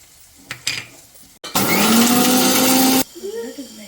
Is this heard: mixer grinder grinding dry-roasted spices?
yes